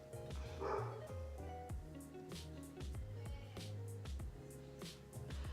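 Dogs barking in quick yipping bursts somewhere nearby, layered over busy music and background sound, fairly faint overall.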